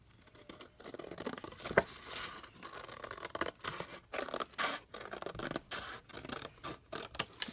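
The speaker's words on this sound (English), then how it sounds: "Okay, so I'm going to fold this down" Paper is creased and folded down for a sticky note holder, giving a run of quick scratchy, rustling strokes with brief sharper snips. The sounds are close and alternate with short pauses.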